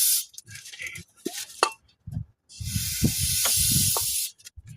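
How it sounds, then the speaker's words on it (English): An aerosol can of brake cleaner hisses in several bursts, the last one long and steady, during work on a 1999 Powerstroke diesel turbo pedestal. Metallic clinks and knocks sound between the sprays. "spray that with a little brake cleaner"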